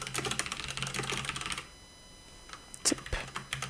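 Someone types on a computer keyboard with quick, close, soft key clatter, pauses briefly, then adds a few more keystrokes.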